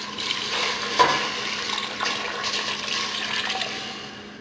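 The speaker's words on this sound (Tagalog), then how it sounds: "Next, maglalagay lang tayo ng water." Water pours into a cooking pot of tinolang tahong (mussel soup) in a continuous, moderately quiet splashing stream, with a small clunk near the start and no talking.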